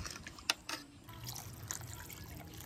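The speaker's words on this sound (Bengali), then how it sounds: "আর একটু জল লাগবে।" Water is poured into mutton curry in a pressure cooker, a faint, soft trickle and splash with a couple of small wet knocks at the start, heard close and quiet.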